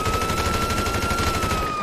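Rapid gunfire in a video game police shootout, a dense, steady volley of shots filling the whole moment with constant loud bursts and no talk over it.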